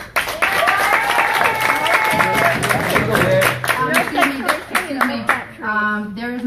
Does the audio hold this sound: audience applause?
yes